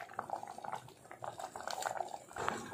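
Homemade tamarind paste boiling in a covered pan, with irregular bubbling pops and spattering bursts, close and fairly busy, with a short lull partway through.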